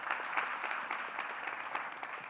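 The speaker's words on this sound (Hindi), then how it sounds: "अब ये ताली किस बात की" Audience clapping at a spiritual satsang gathering, a brief steady patter of many hands, moderately loud and without talk.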